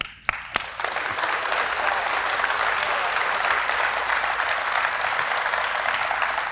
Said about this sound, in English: Let's give Coach Ellis another huge round of applause.